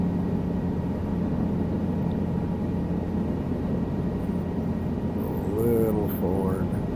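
A helicopter engine drones steadily during a slow descent in Microsoft Flight Simulator 2024, a low, constant hum with a faint whine, holding level throughout under a voice.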